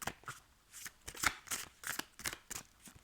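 Oracle cards are shuffled by hand in quick, irregular riffling bursts, soft and close, with no talking.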